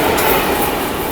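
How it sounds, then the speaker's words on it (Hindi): Amrit Bharat Express running along the Kerala seacoast at about 110 km/h, a loud, steady rushing roar of wheels and carriage rumble heard from onboard. "हमारी ट्रेन समुद्र के किनारे किनारे लगातार 110 की स्पीड से भागे जा रही है"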